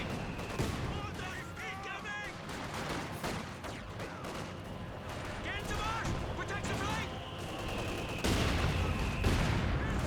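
Mortar and machine gun fire in a war video game, a dense continuous barrage of gunshots and blasts with whistling tones throughout, louder near the end.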